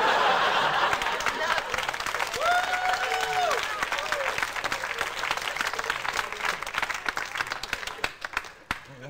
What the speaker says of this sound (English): Clap, I'm not used to that,